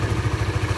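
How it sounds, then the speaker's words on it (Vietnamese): A used white and red Honda Sonic 150R racing motorcycle runs its engine, a steady close mid-pitched idle with a rapid even pulsing rhythm and no voices. "Đây là tiếng động cơ của chiếc Sonic này."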